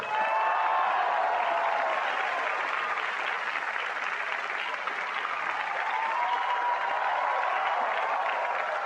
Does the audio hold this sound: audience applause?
yes